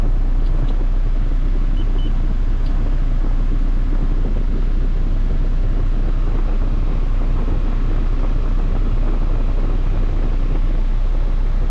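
An ED/EF Honda Civic with a swapped K20 Type R engine idles with the air conditioning on, giving a loud, steady low drone with a slight dip in revs, mixed with rushing wind-like noise on the microphone.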